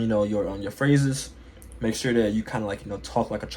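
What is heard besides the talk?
None of the usual background noises is heard.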